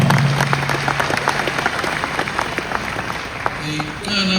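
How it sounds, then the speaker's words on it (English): Audience applause fills a university's 60th anniversary celebration, a steady wash of clapping from a large crowd, with a faint voice and musical tones over the start and end. "the leadership deserves the highest applause"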